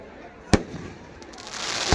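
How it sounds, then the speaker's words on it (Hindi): Fireworks at a Dussehra Ravan dahan celebration in Kandra, Saraikela: two sharp, loud bangs about a second and a half apart over a steady hiss of crackling and crowd noise. "लेकिन आतिशबाजी का आनंद लीजिए"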